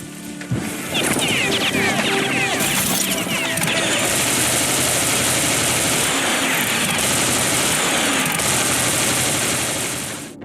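A rapid-fire gun in the video game Serious Sam 4 unloads in one long, dense, continuous stream of shots that lasts about nine seconds, loud and close, with a sharp start and a fade at the end.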